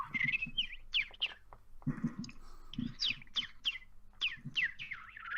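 A person imitates a warbler's call with a run of quick, high chirps and trills in short bursts, mixed with low vocal grunts between phrases.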